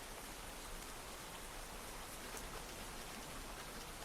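Steady rain falls continuously, an even, hissing wash of drops on surfaces with no voices, soft and constant throughout.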